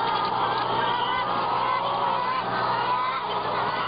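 A dense, continuous clamour of many caged laying hens packed into a battery shed, a loud unbroken wash of overlapping clucks and squawks with no voices.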